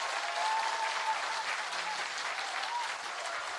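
An audience at a political meeting claps loudly and steadily, a dense, even wash of applause from start to finish.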